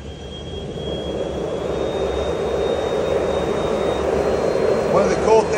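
A propane forge burner lights and settles into a steady, loud roaring blast that holds for several seconds and swells slightly toward the end, with no talk over it.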